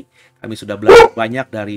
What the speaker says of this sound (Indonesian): Maafkan tadi ada anjing saya gonggong.